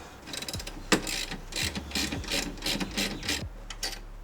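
A hand ratchet wrench loosens two 15mm bolts at the back of a car's brake caliper. Rapid ratcheting clicks come in close, busy bursts with small metallic knocks.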